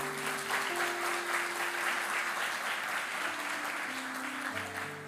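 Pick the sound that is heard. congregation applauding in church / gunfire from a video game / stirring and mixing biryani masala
congregation applauding in church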